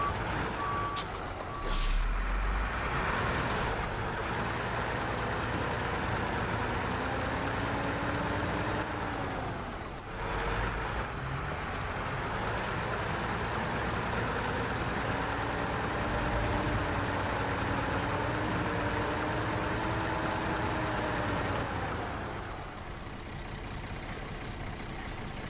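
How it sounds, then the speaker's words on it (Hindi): A logging truck hauling giant timber in Wisconsin, stuck and straining, its engine droning steadily for the whole stretch alongside the repeated chirp of reversing beeps and a hiss of air brakes. "ट्रक ने पूरा जोर लगा दिया और निकल नहीं रहा है, कहाँ फंस गया ये"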